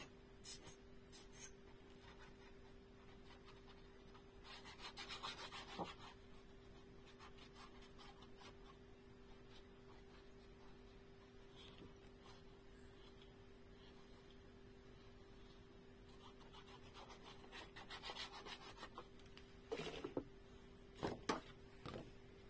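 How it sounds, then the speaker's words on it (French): Paper edges of a scrapbook album being filed, quiet repeated rasping strokes close by, coming in short bursts with pauses and a low steady hum underneath. "je vais limer les bords pour enlever les traces de papier"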